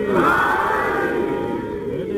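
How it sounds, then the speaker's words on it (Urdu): A large crowd at a Muharram majlis in an imambargah roars the slogan Haidari in unison, a loud sustained collective shout that swells at first and then holds and slowly fades. "نعرہ ہے حیدری"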